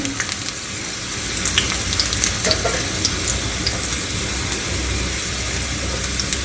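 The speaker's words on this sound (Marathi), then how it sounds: "अद्रक टाकून घ्यायचे आहे जे तुकडे केले होते ते याला छान दोन मिनटं फ्राय होऊ द्यायचे आहे" Ginger pieces fry in oil in a pan for South Indian kara chutney, a steady close sizzle with crackling pops running throughout.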